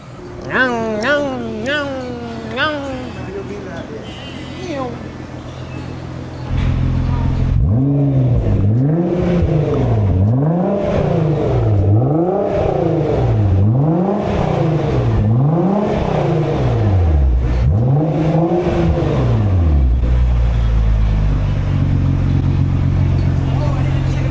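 Nissan GT-R Nismo with a 4-inch SBD exhaust driving, starting with a few short revs, then a loud sustained engine drone that rises and falls repeatedly through gear changes before easing off, with no talk.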